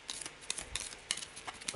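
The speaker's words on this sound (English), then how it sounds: "So, give it a quick shuffle," A deck of cards from a haunting deck being shuffled, a quick run of faint crisp riffling flicks in close succession, soft and near.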